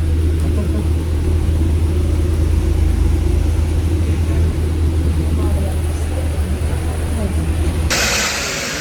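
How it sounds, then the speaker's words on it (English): A London double-decker bus engine rumbles close and loud from on board, a steady deep drone that holds throughout before shifting abruptly near the end. "I'm on a double-decker bus."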